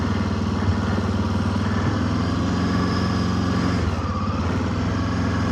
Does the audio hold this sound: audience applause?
no